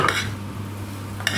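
Potatoes are tipped into a pan with spices for Bombay aloo, making a brief clatter at the start and another at the end, with a low steady hum in between.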